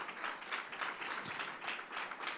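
Church congregation applauding in praise during an evening service, steady sustained clapping at moderate distance, fairly quiet and unbroken.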